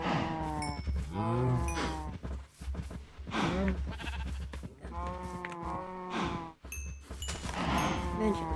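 Cows in the Minecraft video game moo repeatedly in long, drawn-out calls, several overlapping and close by, with only brief pauses between them.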